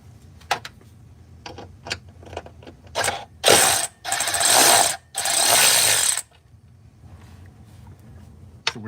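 Ratcheting wrench clicks loosen bolts under a 2007–2010 BMW M6 to drop the drive shaft: scattered short clicks, then several longer bursts of rapid ratcheting close by, with no talk.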